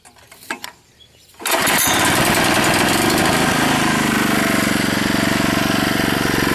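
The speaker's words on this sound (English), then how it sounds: "we'll fire the machine up and show you how it runs" A Ryan Lawnaire IV walk-behind core aerator with a Honda engine fires up after a few clanks and runs loud and steady at close range, with a buzzy, rattling drone.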